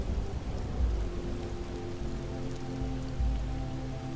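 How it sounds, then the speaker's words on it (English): Steady rain falls on the ground and on tent fabric overhead, a continuous close patter with no speech, and a low rumble hints at distant thunder. "Focus on the rain instead. Watch each droplet fall, splattering against the ground outside and the fabric above you."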